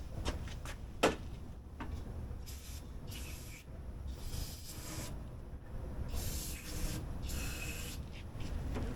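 A spray can hisses in short bursts as paint is sprayed onto engine parts of a C4 Corvette, quiet close spurts separated by brief pauses and a few clicks.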